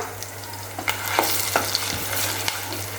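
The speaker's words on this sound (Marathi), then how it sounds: "ते आपण घालणार आहोत शेंगदाणा तेल आणि मिरची छान आता हे तेलावरती आपण परतून घेऊया" Green chilies sauté in hot peanut oil with a steady close sizzle, broken by a few sharp clicks and scrapes of a spatula stirring the pan, with no voices.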